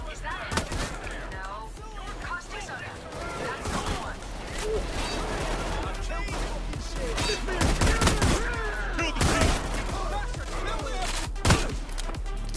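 Shotgun blasts in a Payday-style heist video game mission, loud repeated shots amid a chaotic firefight with heavy background gunfire, under someone speaking Spanish.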